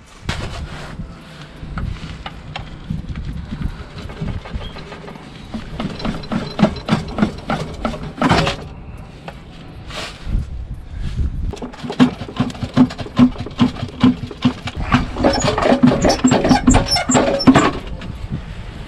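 Metal-on-metal prying and clanking as a gearbox is levered off a Ford Mondeo Mk4 engine during a clutch job, with irregular knocks, scrapes and ratcheting clicks close by in a workshop, no talk.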